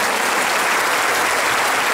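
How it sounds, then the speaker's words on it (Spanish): Worshippers at a faith and healing mission break into loud, continuous applause, a thick wash of many hands clapping at once with no speech on top. "Démosle un mega aplauso al que todo puede"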